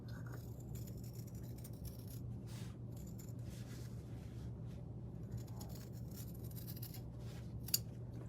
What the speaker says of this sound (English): I'm just gonna cut out that 2-inch box.